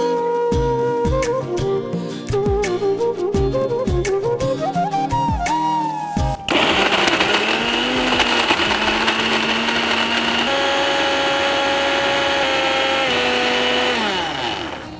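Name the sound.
mixer grinder blending beetroot and jaggery with water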